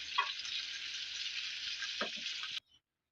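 Fish fries in shallow oil over a low flame, a steady close sizzle with a few soft stirring clicks before it cuts off abruptly near the end.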